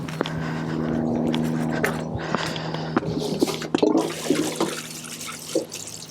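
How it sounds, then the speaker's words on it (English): Water is poured over freshly potted strawberry runners, giving a close, continuous splashing and trickling that breaks into scattered drips and splatters toward the end. "I'm just going to give them a little water just to bed them in"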